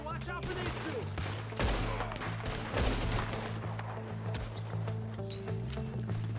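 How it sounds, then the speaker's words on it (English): Rapid gunfire crackles in a Red Dead Redemption 2 Wild West shootout, with repeated overlapping shots and impacts over a low droning music bed, moderately loud and continuous. "I don't know how people didn't hear all this gunfire"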